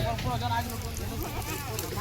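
Kathiawari goats bleat in a crowded, noisy setting, their wavering calls overlapping with people talking nearby.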